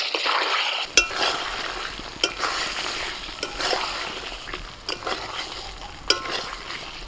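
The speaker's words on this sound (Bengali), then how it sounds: "পাঁচ মিনিট ঢাকা দেওয়ার পর একটু নাড়াচাড়া করে দিচ্ছি" Chicken stirred in a pan after being covered for five minutes, with an ongoing sizzle broken by repeated scraping strokes and light clanks of the utensil, close up and without talk.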